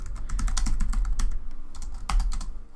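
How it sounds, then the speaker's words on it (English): Rapid clattering keystrokes on a loud mechanical keyboard, close and busy, with bursts of fast typing and a few heavier clacks, no voices. "I recently switched to a mechanical keyboard. I don't, which is really, really loud."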